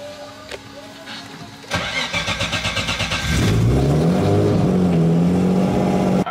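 A car engine cranks with rapid rhythmic pulses, then catches and roars into a loud steady run, close by.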